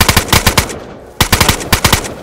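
Automatic gunfire in the DayZ video game during a clan base raid, two rapid bursts of loud close shots separated by a short pause, without speech.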